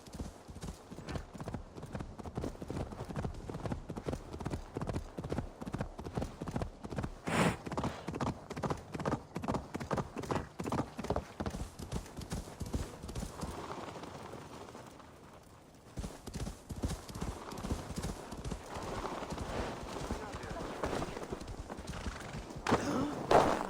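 Horse hooves in Assassin's Creed Valhalla clip-clop in a steady, brisk rhythm, loud and close, pausing briefly before resuming, with an occasional whinny and voices talking over the hoofbeats.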